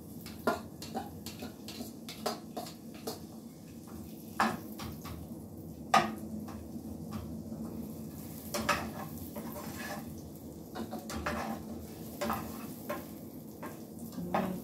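Green pepper and onion frying for a Philly cheesesteak, a soft steady sizzle broken by scattered clicks and scrapes of a utensil against the pan, close but fairly quiet.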